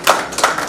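Brief burst of audience clapping at a civic honours ceremony in Udaipur, a few soft irregular claps heard close and alone over less than a second.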